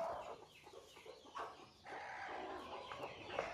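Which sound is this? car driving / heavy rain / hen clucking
hen clucking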